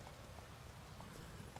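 Roach the horse's hooves clip-clopping in the video game The Witcher 3, a steady, quiet run of footfalls heard alone beneath a constant hiss.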